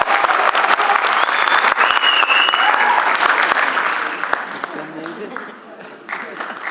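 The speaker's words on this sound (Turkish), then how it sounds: "alkışlarınızla." An audience at an international theatre festival in Bilecik claps loudly and steadily with a few crowd voices mixed in, the applause fading over the last seconds.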